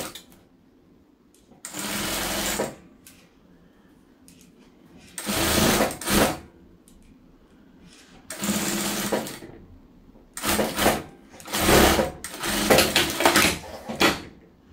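Sewing machine backstitching a double-sided fabric table towel made from scraps, running in five separate loud whirring bursts with quiet pauses between, close up and with no talk.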